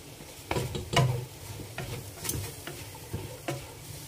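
Thinly sliced onions sautéing with salt for a fried chicken biryani give a low, steady sizzle broken by several sharp stirring scrapes and clicks, close by with no talk.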